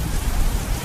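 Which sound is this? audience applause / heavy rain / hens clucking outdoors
heavy rain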